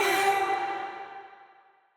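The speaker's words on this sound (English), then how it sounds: "Well, what we would do is actually add a delay before the reverb." A vocal phrase fed through a delay placed before a Sound Toys plate reverb plugin, fully wet, ringing out alone with bright tonal echoes that decay smoothly over about two seconds.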